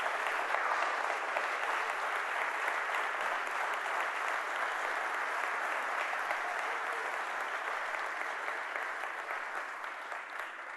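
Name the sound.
audience applause in church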